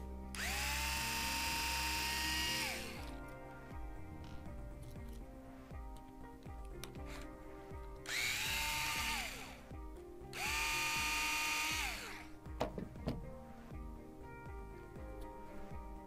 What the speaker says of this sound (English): Going to remove the 2 motor screws, which will take off the motor plate.